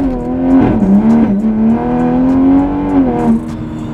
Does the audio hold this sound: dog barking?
no